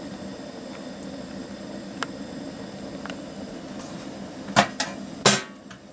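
A portable camping gas stove, rusted from storage, burns with a steady, even hiss throughout, and a few sharp knocks or clicks stand out near the end.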